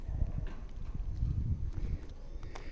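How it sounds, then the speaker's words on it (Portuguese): A horse grazing on grass in a city neighbourhood in Porto Alegre makes close, uneven hoof clops and soft shuffling thuds, with no talk. "Um cavalo, gente, comendo aí sua graminha."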